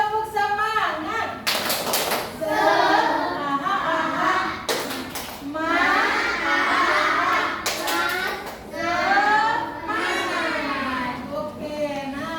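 Children in a classroom clapping a rhythmic cheer, bursts of quick claps alternating with the kids chanting together, close and lively.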